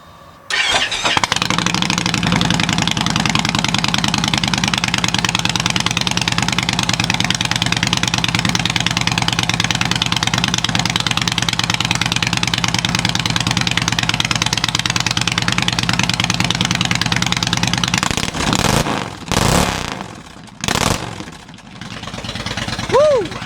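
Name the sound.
motorcycle cold start, dual exhaust engine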